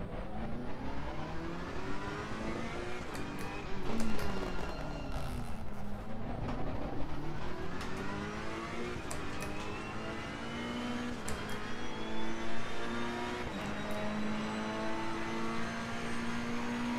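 Ferrari 488 race car engine in the Assetto Corsa Competizione racing game at Paul Ricard, revving hard with rising and falling pitch through gear changes and braking, loud and continuous with no talking.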